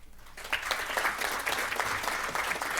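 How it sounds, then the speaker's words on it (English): An audience at a launch event breaks into applause, a dense, steady clapping that swells quickly after a brief lull and carries on evenly, loud and close. "Can we give a big round of applause?"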